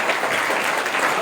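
A church congregation claps loudly in a dense, steady burst of applause, with a faint murmur of voices underneath.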